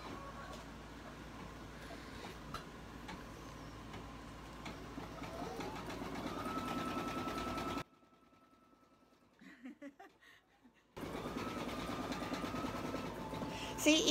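An embroidery machine stitches a design, making a steady close mechanical whir and rattle. It stops abruptly for about three seconds with a few faint clicks, then resumes at the same pace, with no talk over it.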